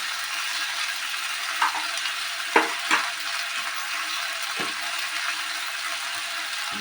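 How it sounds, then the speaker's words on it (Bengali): Jujube chutney with turmeric and salt frying and being stirred in a pan: a steady sizzle runs throughout, broken by a few sharp scraping clicks of the spoon against the pan. "এবার আমি কষতে থাকবো। এটাকে আমি একটু বেশিক্ষণ ধরে কষব।"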